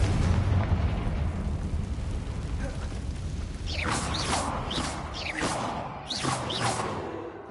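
A Confringo blasting spell goes off in the Hogwarts Legacy video game, heard as a loud sustained rumbling roar followed by several sharp whooshing bursts of debris and crackling, with no talking.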